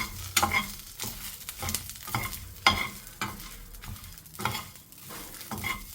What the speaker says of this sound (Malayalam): നന്നായി ഇളക്കിയെടുക്കാം.